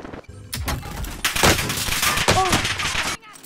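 Video game gunfire from an enemy player comes as a dense, loud burst of rapid shots lasting a few seconds before cutting off abruptly.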